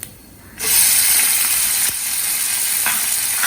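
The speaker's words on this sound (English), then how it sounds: "We have chopped 2 tomatoes and you throw it in" Chopped tomatoes tossed into a hot pan, a quiet background giving way to a sudden loud sizzle that holds steady, with a couple of faint clicks as the pieces settle.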